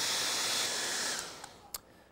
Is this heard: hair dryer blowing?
yes